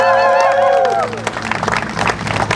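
Crowd cheering and applause for an elder honored at a gathering, rising after a fading tone and continuing as a broad, fairly loud wash of clapping and voices.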